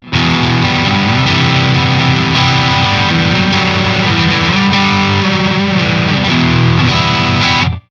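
Distorted electric guitar chords and riffs from a 2022 Squier Affinity HSS Fat Strat on a single-coil pickup, loud and continuous, with a faint steady electrical hum underneath.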